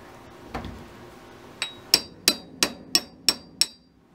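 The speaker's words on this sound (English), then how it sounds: "you're just going to take a hammer, tap it a little bit, and you'll see the screws easily come out" A hammer strikes a screwdriver to loosen screws on a 1980s Honda CB650 motorcycle carburetor: one soft knock, then seven sharp metallic taps in a steady rhythm, close and clear.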